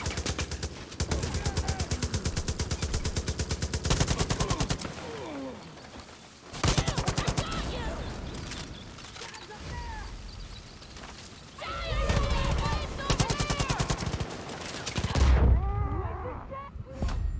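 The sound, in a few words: gunfire from every direction in video game Far Cry New Dawn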